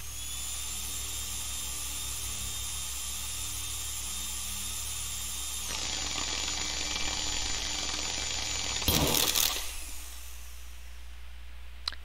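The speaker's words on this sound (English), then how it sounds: "Proceed to drill the surface." A sci-fi drill in the horror video game Stories Untold whines with a steady high-pitched mechanical hum, then abruptly shifts to a louder grinding whir and ends in a sharp burst before quieting.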